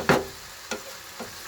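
A few scrapes and stirs of vegetables and other ingredients being mixed in a hot pan: one strong sweep, then two lighter strokes spaced apart, close and fairly quiet.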